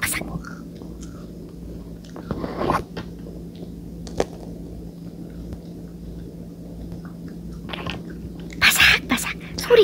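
Close, crisp crunching as a crunchy Jeju fossil-shaped snack is bitten and chewed, with scattered crackly bites and voices around it.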